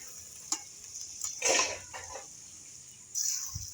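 Sago and vegetables sizzle in a pan while water is poured in, with a few stirring scrapes and a louder hiss burst as the water hits the hot pan, then another rise in sizzle near the end.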